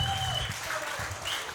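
Applause from an audience at a Kazakh wedding, a steady wash of clapping that carries on without a break through the short moment.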